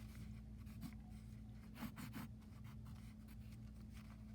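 A colored pencil sketches quick strokes on paper while drawing graph axes, faint close scratching in short bursts with a few firmer marks near the middle.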